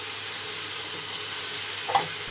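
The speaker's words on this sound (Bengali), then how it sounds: "1 টেবিল চামচ আদা বাটা, 1 টেবিল চামচ রসুন বাটা দিয়ে আবারও একটু কষিয়ে নিচ্ছি।" Ginger and garlic paste sautéing in a pan while being stirred, a soft steady sizzle at moderate distance with one brief knock of the spoon toward the end.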